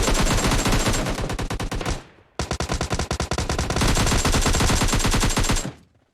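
Sustained automatic gunfire in the PUBG Mobile Lite shooter game, two loud, dense bursts of rapid shots separated by a brief pause, with no speech over them.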